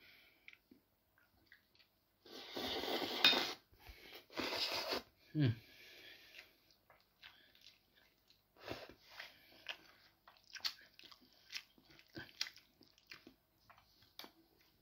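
Close, wet chewing and squishing of Hearty Food Co chicken flavour Chinese spaghetti noodles, with a few loud bursts early on followed by quieter, irregular bites and smacks, and no talking.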